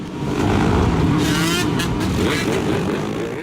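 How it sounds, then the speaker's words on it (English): Loud engine roar from motorcycles, mopeds and ATVs revving continuously during illegal street racing, a dense rumbling drone with rising whines, close by. "those engines rev up. We're talking motorcycles, mopeds, and ATVs."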